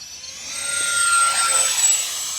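An E-flite SR-71 Blackbird RC jet with twin 40mm ducted fans flies past at high throttle, a steady whining whoosh that swells as it nears and eases slightly, with no talking.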